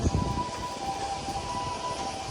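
A faint, steady ambulance siren sounds in the distance over low background rumble in Tokyo.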